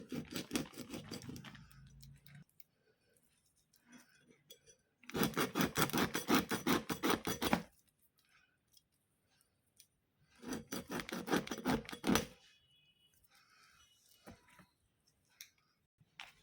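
A large dried fish is cut in three separate bursts of close, harsh rasping strokes, each lasting a few seconds, with quiet pauses and faint scraping between them.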